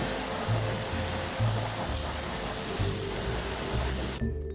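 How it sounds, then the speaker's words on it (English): A water spray hisses steadily and loudly, rinsing the wheels and tires of a BMW M3 E30 during a detail, then cuts off abruptly near the end. "I like to give them a quick rinse first to cool them down"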